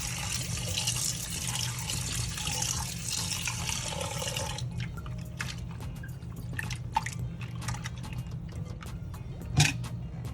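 Tap water runs and splashes steadily over shrimp being rinsed, then cuts to scattered drips and small wet clicks as the shrimp are handled in a sink.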